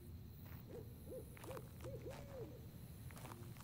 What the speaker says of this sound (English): It's an owl.